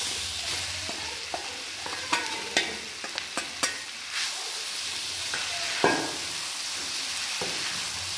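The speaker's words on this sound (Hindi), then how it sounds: "हरी मिर्च के बाद हम जो हल्दी कसी हुई है वो डालते हैं इसके अंदर।" Grated raw turmeric and green chillies sizzling with garlic in a pan for a Marwari-style turmeric curry, a steady frying hiss broken by sharp scraping stirs and clinks of a spoon, with no talking.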